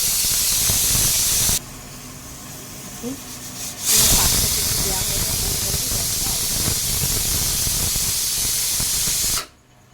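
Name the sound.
pressure cooker releasing steam hiss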